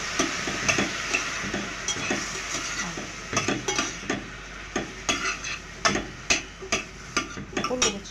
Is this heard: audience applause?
no